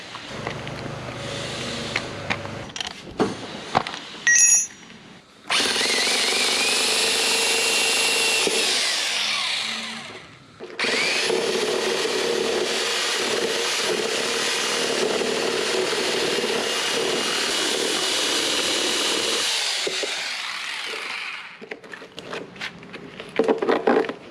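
A power drill bores a hole for a USB charging port on a 2018–2020 Honda Super Cub, running in two long, loud, steady bursts separated by a short pause, with clicks and handling noise before and after.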